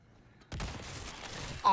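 Rifle gunfire in Resident Evil 4 Remake: a sharp, loud shot bursts in after a quiet lead-in, its report ringing out for about a second before a second hit lands at the end.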